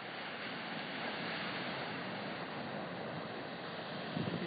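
Ocean waves wash against the rocks at Keaʻau at sunset, a loud, continuous broadband roar of surf with wind and no voices, swelling slightly near the end.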